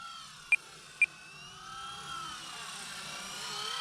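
A Blade 120 S2 fixed-pitch RC helicopter flies with a steady rising motor and rotor whine throughout, swelling slightly as it banks forward, with two sharp brief beeps early on.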